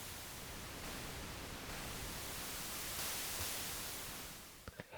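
Broadband hiss from an analog synth's noise oscillator, gradually morphing between brighter white noise and darker pink noise, steady and loud throughout with a few short clicks near the end.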